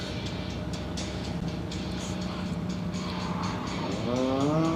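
A Honda Fit driving an autocross course, heard as a continuous engine drone at moderate distance that rises into a climbing whine and squeal near the end.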